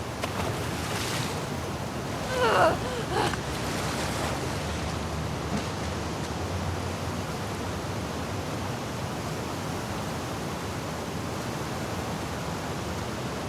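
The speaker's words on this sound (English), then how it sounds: "areas of the game that used water flow as part of a traversal puzzle" Flowing water current in The Last of Us Part II video game rushes as a broad, steady wash of noise, with a brief louder surge early on and no speech.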